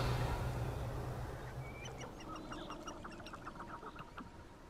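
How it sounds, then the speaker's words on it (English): Chickens cluck in a stretch of the video game Hogwarts Legacy, with rapid soft clucks and short calls over steady ambient noise, moderately loud and without talk. "Chickens."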